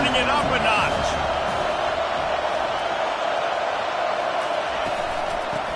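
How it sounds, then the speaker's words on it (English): Dense, roaring football stadium crowd at Baylor vs Utah swells steadily and stays loud throughout, with a play-by-play announcer talking over it. "this crowd is turning it up a notch"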